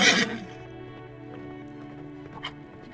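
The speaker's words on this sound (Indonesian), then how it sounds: "Suara kaki kuda." A horse gives a short, loud whinny at the start, followed by faint, scattered hoofbeats and soft clops in a quiet setting.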